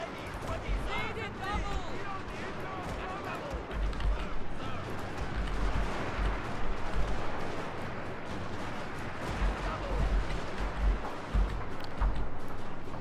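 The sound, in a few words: gunfire in Total War Shogun 2 video game battle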